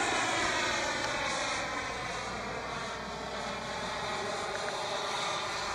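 RC model A-4 Skyhawk jet at an RC festival, passing in front at about half throttle, a continuous loud turbine roar and whine holding steady throughout, no talk.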